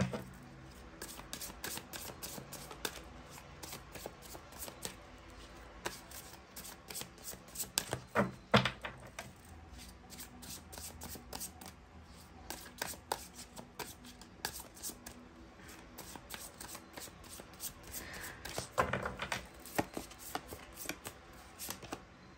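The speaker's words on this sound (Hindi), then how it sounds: "चलिए दूसरे डेक से भी कुछ कार्ड्स निकालते हैं" A deck of tarot cards is shuffled and cards are drawn: rapid, quiet, papery riffles and flicks in irregular bursts, with a couple of louder handling rustles.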